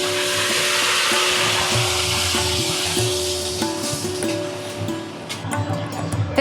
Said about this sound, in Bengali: এই যে মশলাটা দিয়ে তেলের মধ্যে একটু নাড়াচাড়া করে আমি এবার এই ঘুগনিটার মধ্যে ঢেলে দিচ্ছি